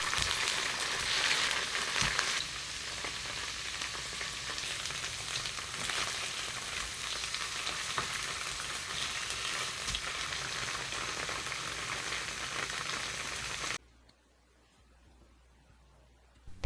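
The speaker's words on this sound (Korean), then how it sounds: "식용유 1스푼, 들기름 1스푼 넣고 두부를 앞뒤로 노릇하게 구워주세요" Tofu pan-frying in a spoonful of cooking oil and a spoonful of perilla oil, giving a loud, dense, continuous sizzle and crackle that cuts off abruptly near the end, leaving quiet room tone.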